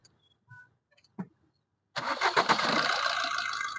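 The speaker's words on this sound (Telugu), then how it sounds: "సింగిల్ సెల్ఫ్ అయితే బండి స్టార్ట్ అవుతుంది సార్" A 2016/17 Swift Dzire VDi diesel car starts on a single crank after a few faint clicks and knocks, then settles into a loud, even, rattling diesel idle heard up close.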